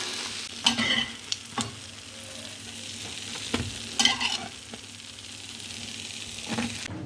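Pancakes (oladky) frying in a shallow layer of oil in a pan: a steady broadband sizzle and hiss running throughout, with a few brief clatters and scrapes of a utensil against the pan, no talking.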